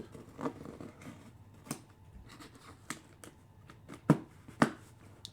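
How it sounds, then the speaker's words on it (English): Quiet snips and scrapes of scissors slicing open packing tape, a few sharper clicks near the end. "Slice open this tape."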